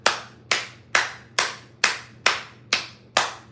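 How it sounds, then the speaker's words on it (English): Eight crisp hand claps land at an even, unhurried pace, close and alone, during a laughter yoga session. "So you do that few times and clap again."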